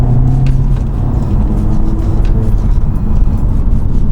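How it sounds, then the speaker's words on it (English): An Audi S3 with a six-speed manual gearbox accelerates hard, its engine giving a loud, steady, low rumble with road noise heard from close by and no talking. "It's amazing how this car just picks up speed so quickly."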